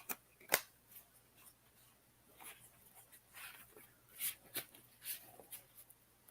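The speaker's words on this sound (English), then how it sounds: "Shuffle this deck really good." Quiet, close papery riffling and flicking, a few sharp snaps among soft scattered rustles, as a deck of tarot cards is shuffled by hand.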